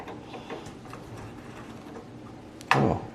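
Screws are tightened during assembly of an Eryone Thinker SE 3D printer, heard as faint, sparse ticks of the tool and then one louder, close ratcheting burst near the end, with no talking.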